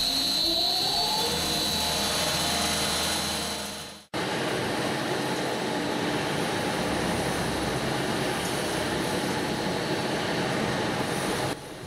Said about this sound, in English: The fans take the sand from the hopper and they blow it inside the chamber where the inverter is located, which creates the effect of a real sandstorm.